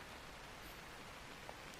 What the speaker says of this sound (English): And it's still raining outside.